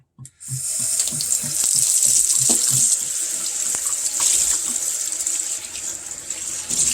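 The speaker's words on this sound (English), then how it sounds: "so now we're just going to rinse this" Tea-stained fabric being rinsed under a running sink tap, a steady loud gush of water with occasional soft splashes and handling as the cloth is squeezed, no talk.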